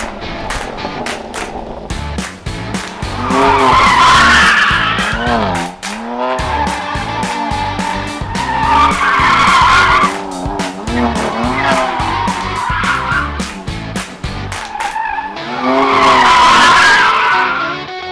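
A BMW M2 Competition and a Nissan 240SX drift and do donuts, their tires squealing in long, loud repeated waves over revving engines, with rapid popping between the slides.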